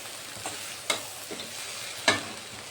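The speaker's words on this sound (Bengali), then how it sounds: "তো আমি আবারও এগুলো দিয়ে আবার কষিয়ে নিচ্ছি।" Jackfruit and prawn curry being sautéed in a wok: a steady background sizzle with a few sharp scrapes and clanks from the spatula, the loudest late in the clip, and no voices.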